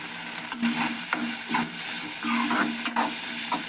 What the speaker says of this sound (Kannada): ಕುದಿಯಾಕತೈತೆ ನೋಡ್ರಿ ಈಗ